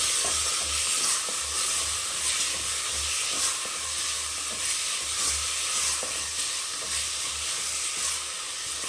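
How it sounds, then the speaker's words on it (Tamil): Tomatoes sautéing in a pan for mushroom biryani give off a steady, loud hissing sizzle, with a low rhythmic rumble underneath and no talk over it. "இந்த தக்காளி நல்லா வதங்கட்டும்."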